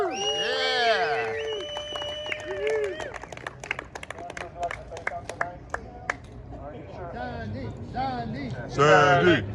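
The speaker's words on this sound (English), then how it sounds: "Really, give her a round of applause." A crowd at the Surf City Classics Wednesday night meeting gives scattered claps mixed with whoops and cheering, while voices talk throughout and the noise swells again near the end.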